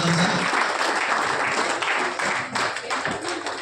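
Audience clapping at a gathering, a dense steady wash of applause filling the whole stretch with some voices mixed in.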